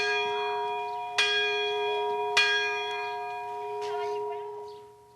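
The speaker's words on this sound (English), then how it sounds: "One day the church bell tolled." A church bell in Garabandal tolls with sharp, ringing strikes at a steady slow pace, its long humming overtones lingering between strokes.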